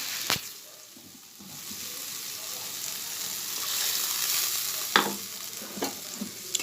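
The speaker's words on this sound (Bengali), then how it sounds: "তো মশলাটা কষিয়ে নেব" A spiced masala with dried red chilli fries and crackles in a pan for a paneer dish, a close, steady sizzle that swells and fades, punctuated by a few sharp clacks of the spoon against the pan.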